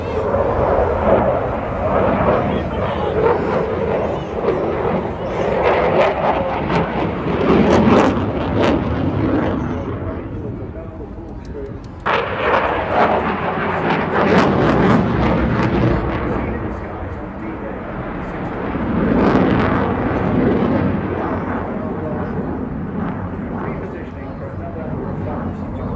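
A military jet roars past at an airshow, a loud, sustained broadband rumble that swells and fades in waves with crackling surges, joined by a continuous commentator's voice over it.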